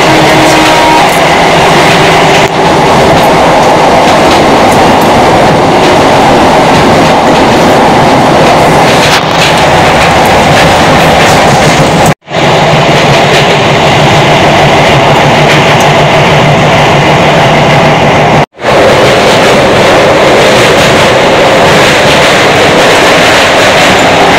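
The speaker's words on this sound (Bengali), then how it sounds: "তো ট্রেন আসছে আর 10 মিনিট পরে চলে আসবে।" A train at Uluberia railway station roars close and loud, a continuous heavy rumble and rattle of wheels and wagons with no voices over it.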